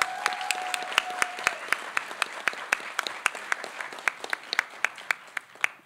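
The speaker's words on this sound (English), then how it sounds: "I want you to give her a warm round of applause" An audience at a women veterans seminar applauds for Joanne, a steady patter of many hands with distinct individual claps, gradually thinning out toward the end.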